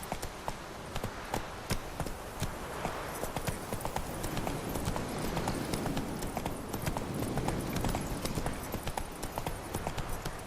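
Roach the horse gallops in The Witcher 3, hooves clip-clopping in a steady, rapid rhythm throughout, fairly close and continuous, with game ambience underneath.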